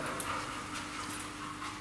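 A Labrador pants softly and steadily during obedience training, with quick rhythmic breaths that stay faint and close against a quiet background, and no talking.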